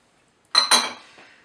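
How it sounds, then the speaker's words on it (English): Cinnamon, cloves and star anise dumped into a pot for mulled wine: two quick clattering hits against metal close by, then a faint ringing decay and a small final tap. "we'll go ahead and dump the last of our dry ingredients in, the cinnamon, the cloves, and the star anise"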